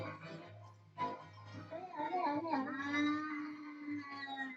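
A black cat lets out a long, drawn meow with a wavering pitch that rises and falls, close and fairly loud, over a low background hum.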